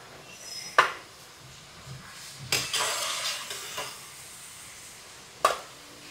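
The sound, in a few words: chips frying in hot oil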